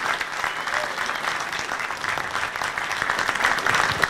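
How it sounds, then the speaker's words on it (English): An audience at a special event in Kildare breaks into loud, dense applause for Jessie, a continuous sustained round of clapping that holds steady throughout. "I think everybody should give Jessie a round of applause."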